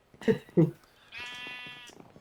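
Sheep in Minecraft give two short bleats close together, followed by a longer drawn-out bleat, with a voice murmuring faintly alongside.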